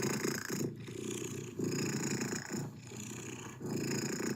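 A cat purrs steadily up close, a deep rumbling drone that swells and eases in repeated breath cycles roughly every second, loud and alone with no voices.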